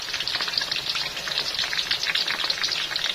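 Onions frying in a pan with fresh tomatoes and sun-dried tomato paste for Tunisian khobiza, a steady bright sizzle with crackling pops throughout, close and continuous with no voices.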